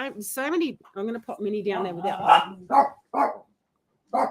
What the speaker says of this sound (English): I'm so sorry about my dogs barking.